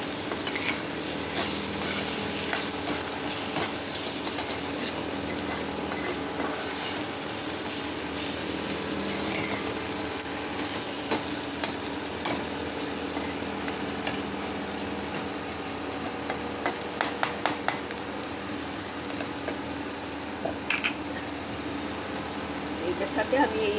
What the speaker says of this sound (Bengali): এইবার ভালো করে একটু কষে নিচ্ছি